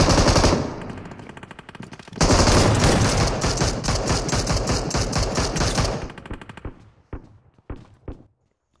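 Rapid bursts of automatic gunfire from the mobile battle royale game BGMI, loud and dense for several seconds, then tapering into scattered single shots and quieter clicks.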